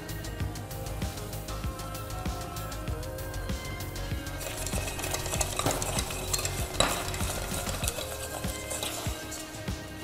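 A spoon stirs a thick Turkish sweet mixture in a pan, producing steady scraping and soft sizzling strokes at close range with no talking.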